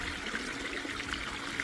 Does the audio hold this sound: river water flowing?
yes